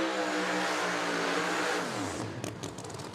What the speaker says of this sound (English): Fisher, as he comes to the water box, lights it up, that 1968 Chevrolet Chevelle